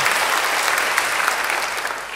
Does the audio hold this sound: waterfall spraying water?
no